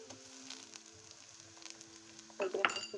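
Quiet sizzling of ginger garlic paste in a pan with soft crackles, then a few louder sharp pops and spatters near the end.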